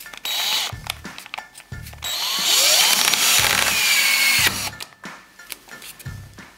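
Drywall screw gun with a belt-fed attachment driving a screw into plasterboard, with short whirring bursts that build into one longer high-pitched run, then stop with a few clicks and clatters.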